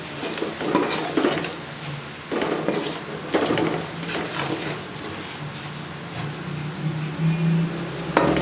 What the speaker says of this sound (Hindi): अच्छे तरीके से मिक्स कर फ्राई करेंगे।